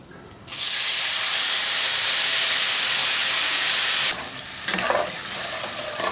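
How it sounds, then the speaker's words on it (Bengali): Tamarind water hits hot mustard oil tempered with dried red chilies and nigella seeds, after small frying crackles, in a pan used to fry small fish. A loud, sustained steaming hiss follows, then drops to a softer bubbling sizzle with a utensil clink. "এবার তেঁতুল গলা জলটা দিয়ে দেবো"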